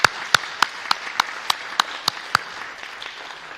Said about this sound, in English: Please give a round of applause for those banks.